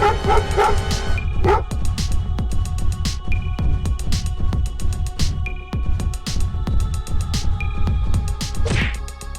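A cartoon puppy yaps and barks in quick repeated bursts over a loud, steady comic music backing, with a whimpering yelp near the end.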